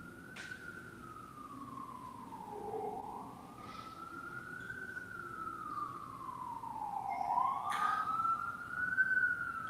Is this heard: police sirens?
yes